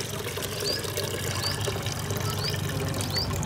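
Water is poured and splashed out of cooking pots in a steady, gurgling trickle that runs continuously at close range, with faint chirps in the background.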